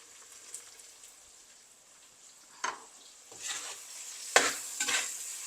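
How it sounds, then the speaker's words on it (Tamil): Onions and ground masala of green chilli, tomato and onion sautéing in a pan for coconut milk chicken biryani, with soft intermittent sizzles and a few louder stirring scrapes toward the end. "வெங்காயமெல்லாம் நல்லா வதங்கட்டும் நான் அரைச்ச மசாலா சேர்க்குறேன்"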